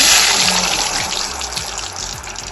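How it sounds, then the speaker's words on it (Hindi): Batter-dipped momos fry in hot oil, giving a loud, steady, close sizzle that fades slightly over a couple of seconds, with no voices. "अब हम गरम तेल में इसको तलने के लिए"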